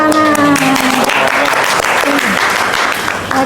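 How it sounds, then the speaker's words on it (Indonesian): An audience claps in a lecture setting, a loud, dense burst of applause running steadily for a few seconds and tapering slightly at the end, with some tonal background sound mixed underneath. "Tepuk tangan."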